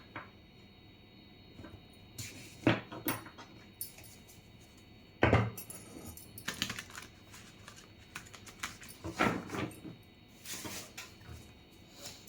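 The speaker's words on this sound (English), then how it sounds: "Let me just shuffle it." A brand new tarot card deck being shuffled by hand, with irregular bursts of riffling and soft slapping clicks of cards, close and intermittent, separated by quiet pauses.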